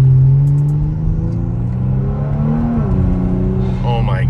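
Kia Stinger driven in manual mode, its engine rumbling steadily loud and close, then climbing in pitch as it accelerates through a gear near the end; no talking over it.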